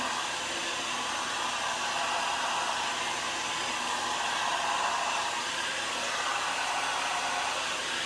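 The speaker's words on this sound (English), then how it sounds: "we are using a diffuser." A hair dryer fitted with a diffuser dries curly 3B hair with a loud, close, continuous whooshing roar that holds steady for the whole stretch, with no voices.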